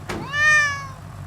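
Chippy Cat, a cat character in the Crossy Road video game, gives a single clear rising-and-falling meow, close and alone over a soft low hum.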